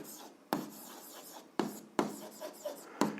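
A pen scratches out an algebra equation on paper in short strokes and taps, quiet and close, with pauses between bursts.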